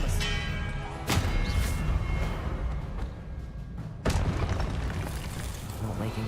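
Disarming spell cast in the game Hogwarts Legacy, two sharp magical blasts about three seconds apart, each a sudden boom over a busy backdrop of game music and effects.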